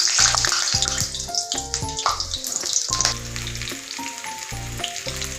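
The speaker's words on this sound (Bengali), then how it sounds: "তেলটা গরম হয়ে গেছে, এবার আমি এর মধ্যে দিয়ে দেবো আলুগুলো।" Potatoes hitting hot mustard oil in a wok give a steady, bright sizzle that runs the whole time beneath a layer of tonal background music.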